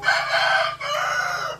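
Newly purchased Dekalb White laying hens in a cage layer building at an egg farm raise a loud, close clamour of overlapping calls, briefly dipping before swelling again.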